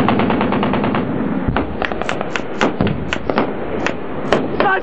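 Machine gun fire rattles out in a firefight in Afghanistan, with loud close bursts and single sharp cracks in quick, uneven rhythm, and shouting voices break in between the shots.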